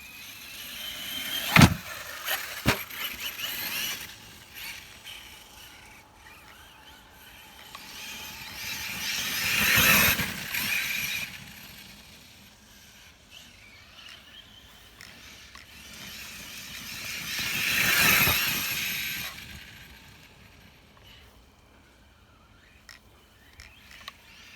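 An Arrma Kraton EXB RC car on a 4S battery drives and jumps, its electric motor swelling into two long revving passes, each rising and fading as it nears and goes by, with a few sharp knocks and rattles at the start.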